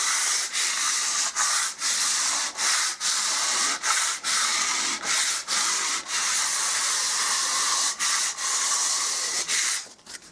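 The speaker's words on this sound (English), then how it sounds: "And just a light sand." Light hand sanding of dried filler on a cracked staircase wall in a terraced house, a steady close scratchy rasp in repeated strokes with brief pauses between passes, no talking.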